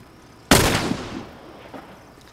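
A single loud gunshot in The Last of Us Remastered on PS4 cracks out sharply, followed by a short echoing decay and quiet background.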